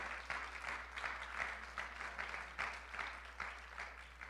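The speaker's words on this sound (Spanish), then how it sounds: "Dele fuerte ese aplauso al Señor" A church congregation claps during a youth sermon, a faint, rhythmic beat of hands in steady pulses over a low, constant hum, with no voices on top.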